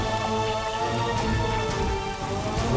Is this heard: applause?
no